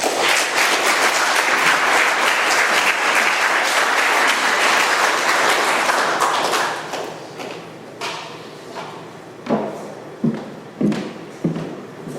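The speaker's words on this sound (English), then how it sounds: "another round of applause" Meeting audience applauding at an AA gathering in Doylestown, PA, a loud sustained round of clapping that thins out and fades, leaving a few isolated thumps and taps.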